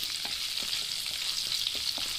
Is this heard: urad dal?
yes